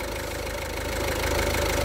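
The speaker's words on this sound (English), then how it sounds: "The engine is now running. We are idling." A car engine idles at roughly 700 to 800 rpm during a mass airflow sensor test, a steady close-up rumble with an even low pulse and no speech.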